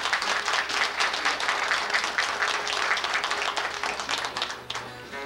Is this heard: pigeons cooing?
no